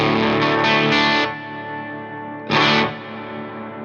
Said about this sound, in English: The ducking reverb is quite nice.